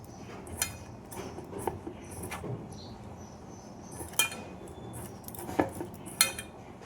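A spoon mixing pumpkin fritter batter with poppy seeds and a little oil in a bowl, producing scattered clinks and taps against the bowl at an uneven pace, fairly quiet and close.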